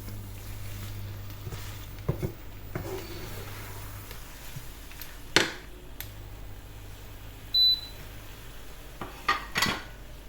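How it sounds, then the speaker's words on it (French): Plates and cutlery clink and scrape while stir-fried konjac pad thai-style noodles are served onto a plate, with scattered sharp knocks and taps over a low steady hum. "Je vais dresser l'assiette et on va goûter ça ensemble"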